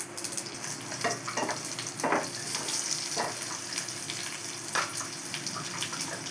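Mustard seeds and onions sizzle in hot oil for an egg curry, a loud close crackle with bursts of popping and stirring scrapes.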